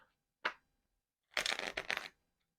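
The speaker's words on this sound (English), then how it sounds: "Let me shuffle twice." A deck of cards being shuffled twice: a quick short riffle, a pause, then a longer riffle with a bridging flutter, close and crisp in a quiet room.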